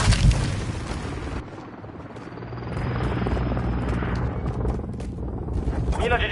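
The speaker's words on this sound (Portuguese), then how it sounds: "Granada de compulsão lançada." A concussion grenade goes off in the Call of Duty Modern Warfare 2 multiplayer video game, a heavy muffled blast followed by a dull ringing hush, while an enemy patrol helicopter drones and an announcer voice speaks in game.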